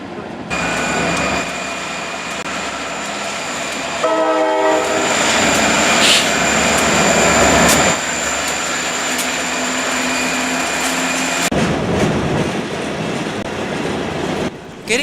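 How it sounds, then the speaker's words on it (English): A JW freight train pulls out of Hillside station on the old IC line in the 1990s, with a steady rumble of railcars, a brief horn blast and rhythmic wheel clatter building over the loud, continuous roll. "After unloading the train departed from the station and headed into history."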